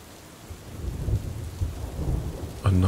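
Steady rain falls on a surface under low rolling thunder that swells and fades, ending with a sharper, louder crack of thunder close by.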